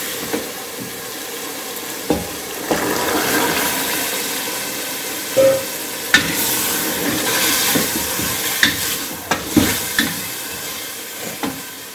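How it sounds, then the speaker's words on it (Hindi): Chickpeas sizzle as they are roasted in masala for Lahori chana masala, a steady close frying hiss broken by occasional scrapes and clinks of a spoon stirring the pan, with no talking. "अब हम इसमें चने डालेंगे और चनों को अच्छी तरह भूनेंगे।"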